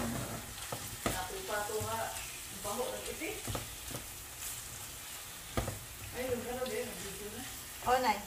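Ground pork sizzles in a pan while a spatula stirs and scrapes now and then, with a steady frying hiss underneath and occasional clanks from the utensil.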